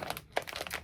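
Plastic packaging crinkles in quick, close rustling bursts, brief and fairly quiet, with no voice over it.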